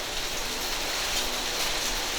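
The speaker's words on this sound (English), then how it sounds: "It's raining, it's raining. The dude's getting wet. It's hailing, it's hailing." Steady rain with hail pattering outdoors on a workshop surface near a Ferrari 308, a dense, even hiss of drops without pause or voices.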